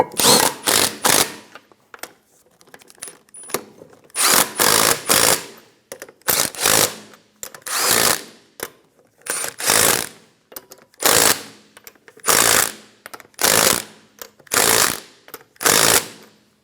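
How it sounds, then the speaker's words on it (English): Impact wrench snugging lug nuts on a rear wheel of an Infiniti G35, loud close bursts of rapid hammering repeated about a dozen times with short quiet gaps between. "install the wheel. Snug down the lug nuts."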